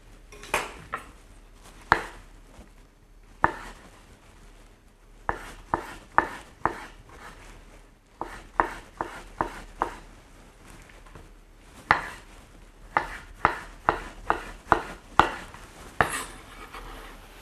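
A knife chops through a tomato on a board while the core is cut out, giving a run of crisp, irregular taps, some in quick clusters and others spaced apart, close and clear with no talking.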